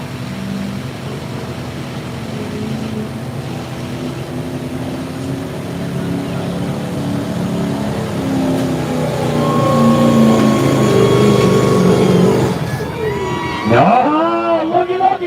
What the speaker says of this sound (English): Watching some tractor pull